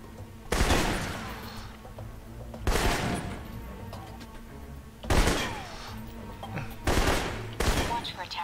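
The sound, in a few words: assault rifle gunfire in the video game Alpha Protocol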